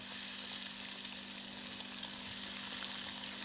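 Chicken rolls dropped into a large pot of hot oil, a loud, steady bubbling sizzle of deep frying with faint crackles and a low hum beneath, no voices.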